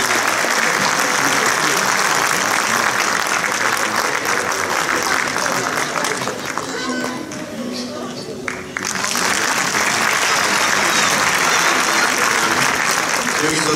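A concert audience applauds to welcome the conductor: dense, loud, continuous clapping that thins briefly midway and then swells back to full strength, with a voice speaking over it.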